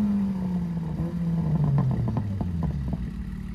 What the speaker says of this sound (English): The Turbo MX-5 making some noise.